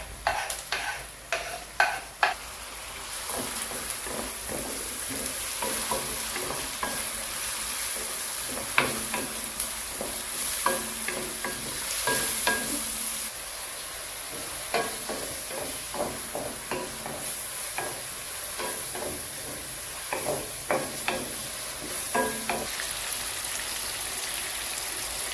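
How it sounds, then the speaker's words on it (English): Onions, pepper and tomatoes fry in a pan for a Nigerian egg breakfast, giving a constant close sizzle with frequent clattering stirs and scrapes of a utensil throughout, no one speaking. "Then I'm going to add the pepper and the tomatoes, and I'm still going to fry it for about 1 to 2 minutes"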